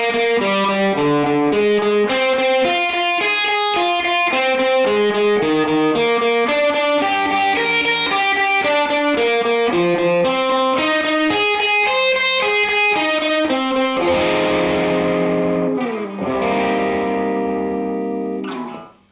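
Distorted electric guitar picking a blues-rock chord-shape exercise, steady rapid single notes stepping through arpeggiated shapes, loud and close, ending with a few ringing strummed chords that fade out.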